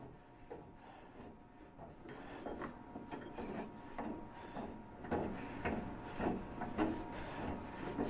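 A fastener on a Kubota BX80 front tie down is unscrewed with faint, repeated scraping and clicking turns, soft at first and growing slightly louder and busier toward the end.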